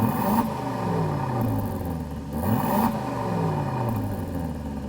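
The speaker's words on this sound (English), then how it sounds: "Let's hear that middle exhaust setting." Aston Martin DB12 exhaust in its middle sport setting with baffles partly open: two strong revs sweep up and fall back, a deep throaty roar with crackle between, close and loud with no talk.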